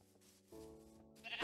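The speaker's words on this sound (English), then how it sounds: "Oh, sheep." Sheep bleating in the video game Minecraft, a short close bleat alone and clear, ending in a sudden loud burst.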